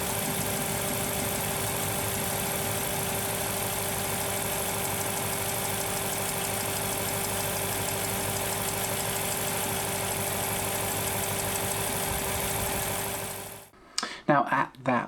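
An Aston Martin V8 engine idles close by, giving a steady, even hum with a fine, rapid ticking woven through it. It runs unbroken for about thirteen seconds, then cuts off into a few scattered knocks.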